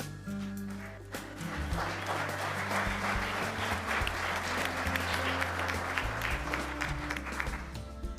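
Audience applause at an Oklahoma Municipal League honor roll of service awards ceremony: a sustained wash of clapping rising after a name is read, with background hum and tones underneath, steady and moderately loud for several seconds.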